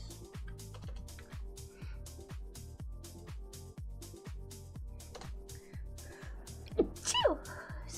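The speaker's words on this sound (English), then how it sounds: "sneeze. Excuse me." A single sharp sneeze bursts out near the end over steady, rhythmic background music with a thumping beat; it is close and briefly louder than the music.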